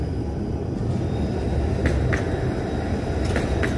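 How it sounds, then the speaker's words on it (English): A GO commuter train heads east past a city street, heard as a steady broadband rumble that holds at an even level throughout, with a few faint metallic clicks near the end. "There's a GO train headed east."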